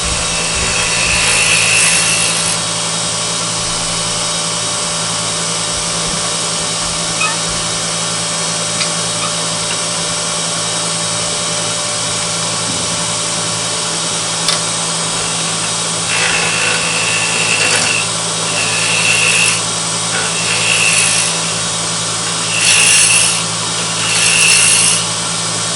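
A woodturning tool makes an anchor bevel cut on wood spinning on a lathe, a loud, continuous scraping hiss over the steady motor hum, with rhythmic swells of cutting in the later part.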